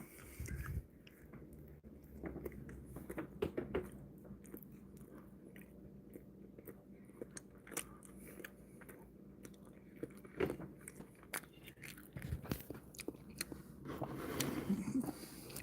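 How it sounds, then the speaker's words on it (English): Quiet close-up biting and chewing of a peanut butter and jelly sandwich with apple jelly from an MRE ration, soft irregular crunches and squishy mouth sounds over a low background hum. "we're gonna eat our weird peanut butter and jelly sandwich"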